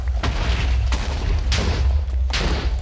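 A Destruction Catalyst in the Minecraft mod Xeno's Reliquary sets off a game explosion clearing a 3x3x3 area, heard as four loud booming blasts in quick succession.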